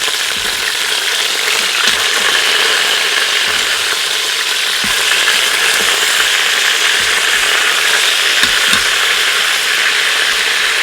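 Chicken thighs sizzle steadily while browning in an Instant Pot, a loud continuous crackling fry punctuated by occasional scraping clicks as pieces are flipped.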